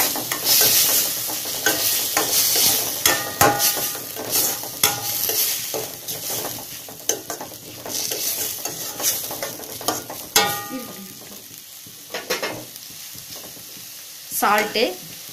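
Carrots, beans and other vegetables sizzle in a hot pan for Indian-style macaroni while a spoon scrapes and stirs in irregular bursts, close and moderately loud.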